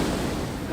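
Surf rolls onto Hiratsuka beach on the Shonan coast, a broad continuous wash of breaking waves mixed with wind rumble, loud and close for under a second.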